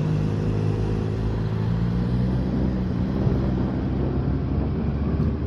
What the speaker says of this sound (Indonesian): Kita riding bareng moge guys.